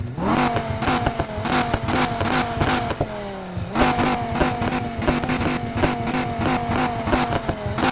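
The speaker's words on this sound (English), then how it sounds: "And now coming over to the exhaust sound." Dodge Viper exhaust in the racing game Need For Speed Heat with an aggressive timbre setting, loud repeated revving with rising pitch sweeps and gear shifts, a brief dip mid-way, continuous and alone.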